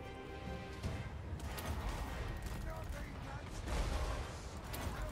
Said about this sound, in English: let's go for a bombing run